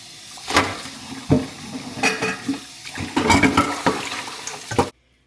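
Leftover pots and dishes get rinsed under a running tap in a home kitchen, with bursts of splashing water and clattering pans before the sound stops abruptly.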